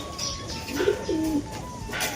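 Pet pigeons coo nearby at feeding time, two or three throaty rolling calls standing out over a faint steady background hum.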